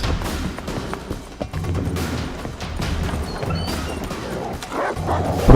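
Dogs barking repeatedly in The Witcher 3: Wild Hunt, a loud, dense flurry of yips and woofs mixed with game clatter and crashes, continuous throughout.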